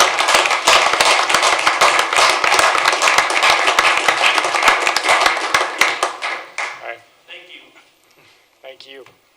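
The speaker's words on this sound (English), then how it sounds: "we can give you a round of applause" A city council meeting audience claps for staff supervisors, managers and directors, a dense burst of hand claps that thins out and stops after about six seconds, followed by brief speech.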